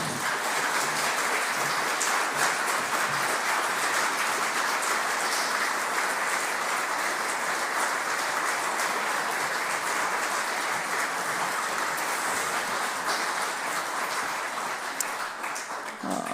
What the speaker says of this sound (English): Let's give them a massive round of applause, please.